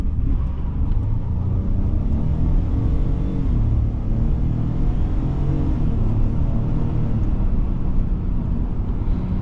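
A 2023 Ford F-150 EcoBoost pickup pulling away with traction control switched off, a heavy, steady low engine and road rumble heard from inside the cab, loud and unbroken.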